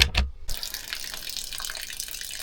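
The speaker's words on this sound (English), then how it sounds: "There's the water from the boiler." Water pouring steadily from a van's boiler safety valve, draining out beneath the vehicle during winter prep; a continuous, hissing splash of clean water that begins after a brief thump and runs on evenly, close by, with no talk.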